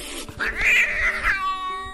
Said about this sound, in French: Les chats hérissent leurs poils et font le dos rond quand ils sont effrayés.